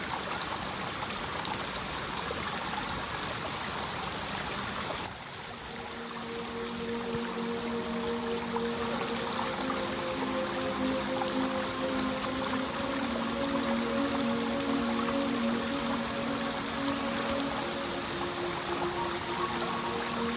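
Mountain stream on the Har Ki Dun trek in the Himalayas: a continuous, full rushing burble of flowing water, close and steady throughout, with faint tonal sounds in the background.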